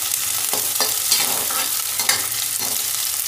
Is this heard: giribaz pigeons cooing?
no